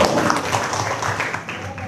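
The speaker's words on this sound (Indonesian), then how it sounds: "tepuk tangan untuk kelompok 1" Classroom audience applauding a student group after their presentation, a brief burst of dense clapping with voices mixed underneath.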